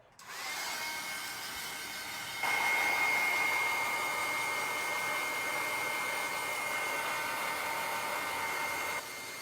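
A hair dryer blows on an art journal page, a steady close whirring roar that kicks up to a stronger setting after a couple of seconds and runs continuously, with no talking.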